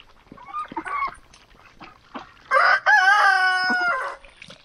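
A rooster crows loudly and close by, a single long harmonic cock-a-doodle-doo following some softer clucking and fowl noises.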